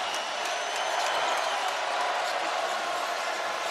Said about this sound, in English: Crowd is lively tonight, not deterred by the weather seeping into Gamble.